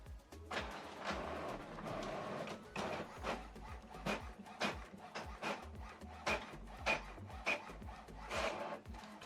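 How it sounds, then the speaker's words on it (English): An HP OfficeJet Pro 9135e prints a document in a quiet room, giving off soft repeated rubbing clicks and short shuttling strokes of the print carriage that keep a steady, uneven rhythm throughout. "So the document is printing."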